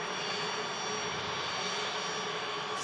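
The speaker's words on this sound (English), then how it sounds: "Next out, it's going to be the Ryanair to Billund. Aircraft's just vacating here." A Ryanair airliner rolls off the runway at Manchester Airport in thick fog, its engines giving a steady, broad, even roar with a faint high whine throughout, fairly distant and with no voices.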